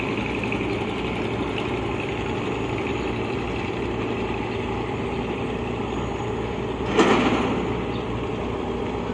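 An engine idles steadily with a low, even drone throughout. A brief brighter clatter rises near the end.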